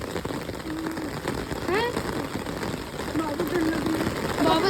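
Heavy rain pours steadily outdoors at night, a dense close wash of drops with a voice speaking over it.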